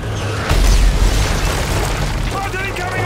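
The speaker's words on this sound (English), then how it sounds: "Mortar incoming!" Mortar shell exploding in Call of Duty Modern Warfare 3, a loud deep boom with a rumbling tail close by, followed by shouted voices and gunfire-like crackle in the game's battle.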